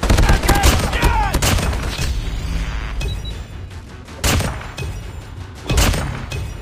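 Hipfire bursts from the HBRa3 assault rifle in Call of Duty Mobile: loud, sharp clusters of shots at the start, then two short bursts later, with thuds and game sounds between.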